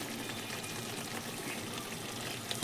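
Water trickles and splashes steadily into meat being braised in a pan, a continuous close wash of pouring and faint frying noise with no talking.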